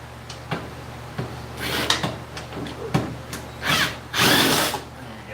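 A power tool works at a stuck cross member bolt under a vehicle, with short loud bursts of rattling impact and clanking spread through the few seconds, ending in a longer sustained run.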